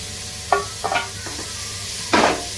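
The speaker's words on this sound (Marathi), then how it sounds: "आणि दोन मिनटं सर्व जेवण भाजून घ्यायचे आहेत" Tomatoes and peas fry in a pan, with a soft steady sizzle under several quick scraping stirs, close by and with no voices.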